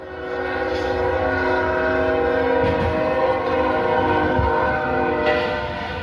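A train passes a level crossing, its horn sounding loud and sustained over a steady rail rumble, with a few heavier thumps from the wheels as it rolls through.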